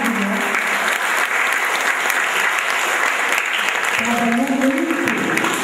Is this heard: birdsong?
no